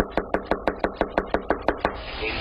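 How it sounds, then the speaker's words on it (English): A sheriff's deputy knocks on the front door of a home, giving about eleven evenly spaced, firm knocks in a steady rhythm. A short stretch of quiet background noise follows. "a Clayton County Sheriff's deputy knocked on the door"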